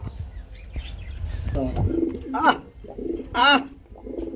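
Big racer pigeons coo in a few deep throaty bursts, close by, with a brief chirp and faint flapping between calls and a low background rumble.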